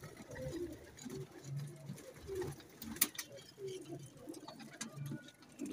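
High-flyer pigeons coo repeatedly inside a loft, soft rounded calls rising and falling in a steady rhythm at close range, with light rustling and a brief sharp tap partway through.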